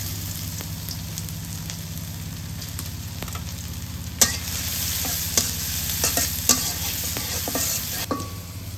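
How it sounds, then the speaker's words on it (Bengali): Garlic frying in hot mustard oil in a wok, a steady close sizzle punctuated by sharp clanks and scrapes of stirring. "রসুনটা হালকা করে ভাজে নিছি"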